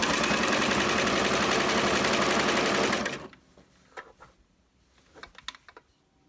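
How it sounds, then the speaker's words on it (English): A sewing machine edge stitching around a double-sided fabric placemat runs fast and steady for about three seconds, close and loud, then stops, followed by a few soft handling clicks and rustles. "the next thing you want to do is edge stitch all the way around your placemat."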